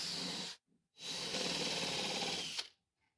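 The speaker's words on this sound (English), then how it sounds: "Here I'm using a countersink bit to get a clean countersunk fit for the screws I'm about to install" A countersink drill bit bores into wood during arcade cabinet assembly: a close, loud whirring burst, a brief pause, then a longer steady drilling run that cuts off abruptly.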